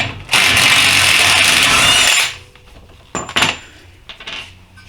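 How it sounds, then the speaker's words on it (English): A ratchet works the axle nut on an Acura RSX, a loud, continuous metallic whirring burst of about two seconds, followed by a few short clanks and clicks of tools nearby. "So all I gotta do is take this nut off."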